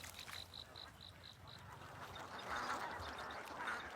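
Faint duck quacks come from a flooded rice paddy, starting as a quick regular series of calls and then thinning into scattered quacks over low outdoor background noise.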